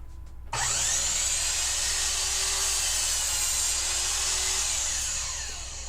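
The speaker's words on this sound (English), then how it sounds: "I'm going to cut an upright for it on my miter saw" A miter saw cuts through old pallet wood, kicking in abruptly with a loud, sustained whining buzz that holds steady for several seconds before easing slightly, with no talking.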